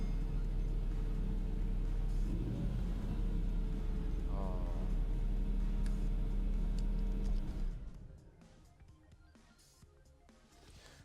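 A 2006 Mercedes-Benz SLR McLaren engine rumbles at a steady idle, a loud low drone for most of the stretch before dropping away to quieter background near the end, with a brief exclamation from a person over it.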